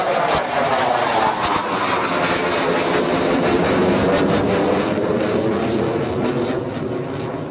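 Rafale fighter jet doing a touch-and-go landing at night, a loud continuous roar of jet engine noise sustained throughout, broadband and steady with slight swelling toward the middle.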